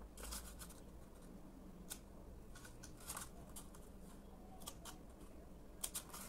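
Scissors snip through paper for a handmade card in a quiet room, giving faint, scattered crisp cuts at an irregular pace.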